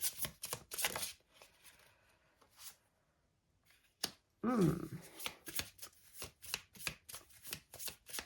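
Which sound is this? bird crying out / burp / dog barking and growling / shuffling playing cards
shuffling playing cards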